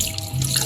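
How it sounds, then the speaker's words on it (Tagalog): Water running into a kitchen sink during dishwashing, a short close splashing trickle with a faint drip, alone without voices. "Hugasan na naman tayo."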